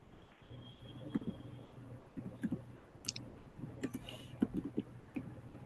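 Computer keyboard typing, quiet scattered clicks and short bursts of keystrokes at an irregular pace, close by and soft, with faint talk in the background.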